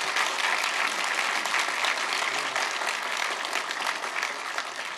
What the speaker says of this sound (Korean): 오늘 좋은 강연과 답변을 해주신 문재인 후보님께 다시 한번 큰 박수 부탁드리겠습니다